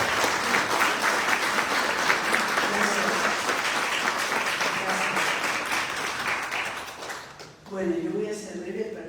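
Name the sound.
audience applause for poet at book presentation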